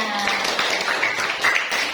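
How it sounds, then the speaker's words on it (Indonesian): Classroom clapping from a group of students, a steady dense patter of many hands lasting the whole moment at moderate loudness. "Tepuk tangan semuanya."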